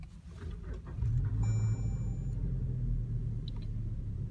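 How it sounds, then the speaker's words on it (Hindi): A 2020 Toyota Fortuner G variant started by push button: a brief starter crank, then the engine catches and settles into a steady low idle rumble, heard close from the cabin, with a faint electronic tone as it fires. "सो पुश स्टार्ट बटन से आप इस गाड़ी को स्टार्ट करेंगे"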